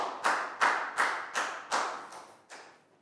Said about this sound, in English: High five and a big round of applause.